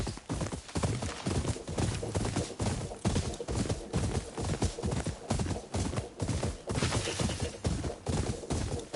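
Horse hooves clip-clopping at a steady gallop while riding in Ghost of Yotei, a fast, even, rhythmic pounding that stays loud and close throughout.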